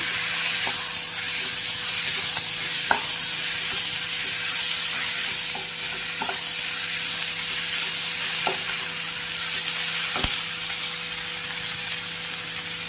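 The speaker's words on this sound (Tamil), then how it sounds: "இதுக்கிடவே கொஞ்சமாக புதினா தழை, கொஞ்சம் கொத்தமல்லி தழை, இதையும் இதில் ஆட் பண்ணி நல்லா வதக்கிக்கலாம்" Onion, garlic, ginger and tomato sautéing for chicken curry, a steady loud sizzle with repeated sharp clinks and scrapes of a spoon stirring the pan, no voices.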